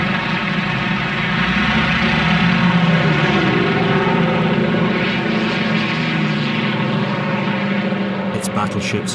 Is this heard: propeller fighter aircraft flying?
yes